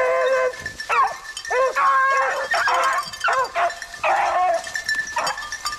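Beagles on a rabbit hunt bay and yelp in a loud, excited chorus of overlapping howling barks, close by and continuous outdoors.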